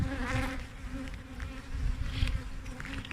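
Honeybees swarm around an open hive and right against the microphone, a dense close buzzing with wavering pitch as individual bees pass by, loud and steady throughout.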